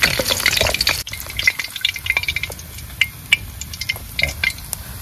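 Fish fries in a kadai at a riverside forest picnic by the Matla river in the Sundarbans: a steady close hiss of oil with scattered sharp crackles and pops, a metallic knock early on, and no voices.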